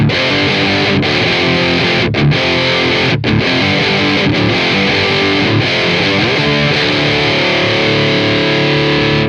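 Distorted alternative rock guitar tone from an AmpliTube 5 amp simulator with a plexi-style amp and a second cab switched on, dense and loud, playing steadily with brief chord breaks throughout.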